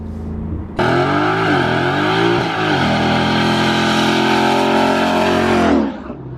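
A Ford Mustang GT V8 with aftermarket exhaust starts up and revs, then holds a loud, deep, steady rumble up close for several seconds before the throttle drops off at the end.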